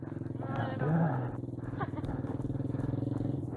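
A motorcycle engine revs as a learner rider gives gas and lets out the clutch, producing a steady low throbbing drone that swells slightly, with a voice talking over it.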